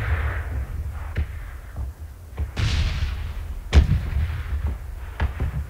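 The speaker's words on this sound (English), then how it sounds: "Was that somebody shooting at me, or was that the explosion?" Video game combat with gunfire and explosions: repeated sharp booms and cracks at irregular intervals over a low rumbling background, a few strong close blasts standing out.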